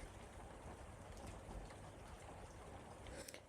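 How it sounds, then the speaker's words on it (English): Rain falls steadily outside a house in Australia, a faint, even hiss with scattered soft drops and no talking. "glorious rain cooling us down."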